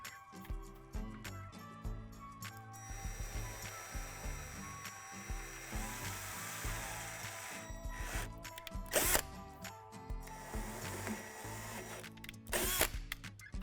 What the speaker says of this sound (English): Now we're going to drill out 2 holes through the dimples on the edge of the sink pedestal.